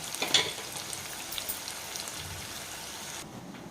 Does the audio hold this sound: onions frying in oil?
yes